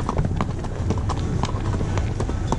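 Cows walking along a mountain path in the Picos de Europa near the Duje river, hooves clopping in a steady, fairly close rhythm over outdoor ambience, with no talk.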